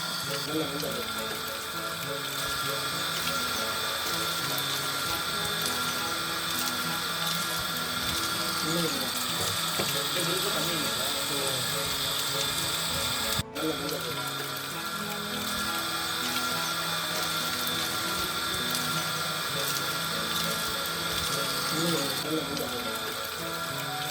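Steady mechanical ratcheting and grinding while bolts are tightened on a self-priming pump motor during repair, a continuous busy clatter with running water in the background and one sharp click midway.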